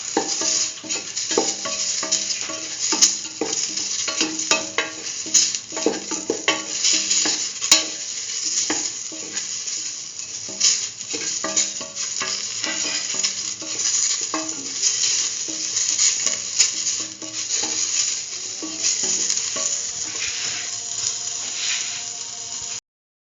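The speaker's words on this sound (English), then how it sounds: "Thoroughly mix." A spoon scrapes and clatters against a pan as lentil rice is stirred and mixed, with rapid irregular scrapes over a faint sizzle, close and continuous without talk.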